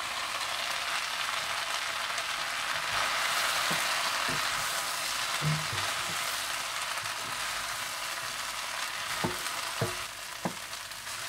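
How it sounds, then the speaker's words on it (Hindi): Schezwan rice with green chilies and spring onions being stir-fried in a pan, a steady close sizzle running throughout with occasional scraping and stirring clicks. "और साथ ही आप इसमें हरी मिर्चें और हरी प्याज भी डाल दें और अच्छी तरह से मिला लें।"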